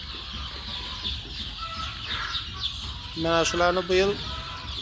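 Chickens and roosters cluck in a farmyard, a steady bed of poultry chatter with louder harmonic calls near the end, while someone talks over them.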